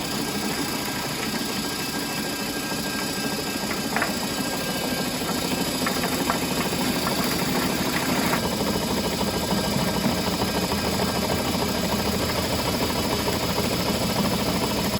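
A worm farm sifter machine runs steadily throughout, a continuous mechanical hum and rattle at even loudness, used for sorting worms from compost and horse manure, with no talk over it.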